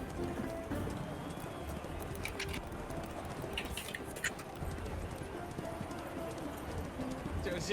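Horses' hooves clip-clop steadily amid a dense, busy background din, with faint chirps of pigeons or small birds above and no clear talk.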